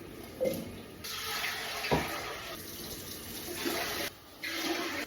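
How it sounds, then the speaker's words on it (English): Tap water running into a pressure canner, a steady splashing rush that rises and falls, with a few knocks and a short pause before the flow resumes. "to begin the canning process, you're going to fill your canner with 3 quarts of water"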